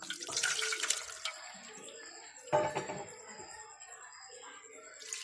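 Water pours and splashes over strained milk curds in two close bursts, a louder stream at first and another after a pause, with no talking.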